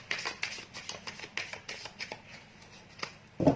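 Tarot cards riffled and shuffled by hand in quick crisp bursts of papery flicks, close and fairly quiet, ending with a brief thump.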